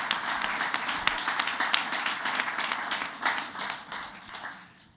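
An audience at a school board meeting applauds with dense, sustained clapping that stays loud and steady for several seconds, then gradually thins and fades toward the end, with no one speaking over it.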